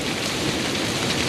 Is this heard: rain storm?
yes